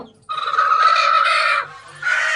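A loud, drawn-out squawk from a Black Aseel hen, then a brief pause and another call starting, close by with little else around.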